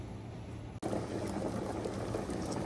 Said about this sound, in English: we're gonna go ahead and bring these to a boil and then let them cool